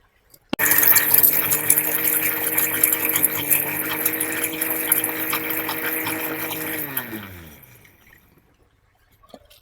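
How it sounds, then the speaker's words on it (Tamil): A mixer grinder grinds coconut and green chili with water: a loud, steady motor whir with a sloshing grind runs for about six seconds, then the motor winds down and fades to near silence. "இந்த தேங்காயும் பச்சை மிளகாயும் ஒன்றா மிக்ஸ் பண்ணி தண்ணி ஊற்றி அரைக்கணும்"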